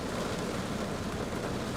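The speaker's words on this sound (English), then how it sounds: "Rain's just too heavy." Heavy rain pours in a dense, continuous hiss at Newcastle International Airport, close and loud, with no breaks or voices.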